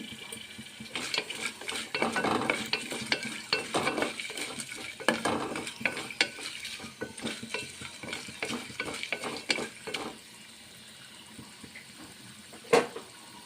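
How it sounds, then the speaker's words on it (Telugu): Cashew nuts frying in a pan, stirred with a utensil: steady crackling sizzle with repeated scraping and clinking of the spoon against the pan, close and fairly loud, easing off toward the end, with no speech. "జీడిపప్పులు వేగుతున్నాయి కదండి"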